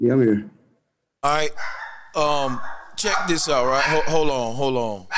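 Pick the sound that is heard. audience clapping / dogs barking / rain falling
dogs barking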